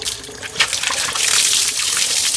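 Cold water runs and pours steadily in an outdoor spring while someone washes, a broad close splashing wash that grows fuller and louder halfway through.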